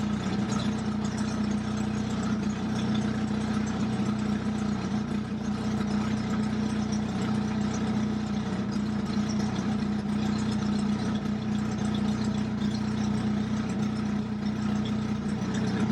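A Jeep engine idles steadily with a continuous low hum and a faint rhythmic pulse, holding an even pace throughout with no speech.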